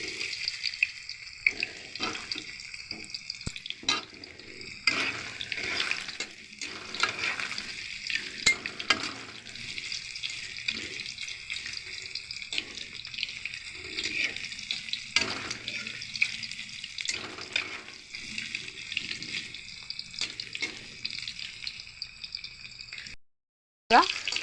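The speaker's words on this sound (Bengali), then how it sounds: "আমার কিন্তু পনিরগুলো ভালো করে কিন্তু লাল লাল করে ভাজা হয়ে গিয়েছে" Paneer cubes frying and being turned in a pan, a continuous close sizzle with scraping stir strokes and occasional clinks, ending in a brief cutoff.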